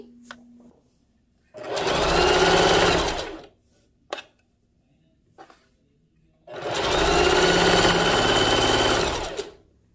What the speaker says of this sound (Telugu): సో చూస్తున్నారు కదా మనకి స్టిచ్ అంతా కూడా చాలా నీట్గా రౌండ్గా పడుతుంది